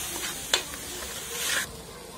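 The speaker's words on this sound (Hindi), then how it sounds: "बटर मेल्ट होते ही इसमें अपना पेस्ट डाल दीजिए जो रेडी करा था। अब इस मसाले को 2 मिनट तक भूनिए।" Masala paste frying in melted butter in a pan, heard as a quiet steady sizzle with one sharp stirring clack and a brief louder hiss before settling back.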